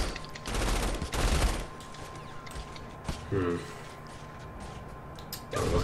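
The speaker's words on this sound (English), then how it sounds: "I'm shooting at the thing. Yeah, well, collateral damage, dude. Giant guns!" Giant guns fire in the Saints Row IV video game, with loud bursts of rapid automatic gunfire and mechanical clatter in several separate volleys, mixed with game effects while people talk over them.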